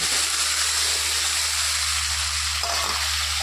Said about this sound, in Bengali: এই বাটিটার মধ্যে একটু জল নিয়ে হলুদ লবণ তারপর তেল যে লেগে আছে এটা আমি ধুয়ে এভাবে দিয়ে দিলাম